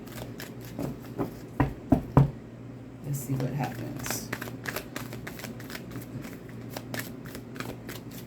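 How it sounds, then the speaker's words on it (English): Rapid crisp riffling and flicking of tarot cards being shuffled close by, in repeated bursts, with a voice speaking briefly over it. "Shuffle, shuffle, shuffle."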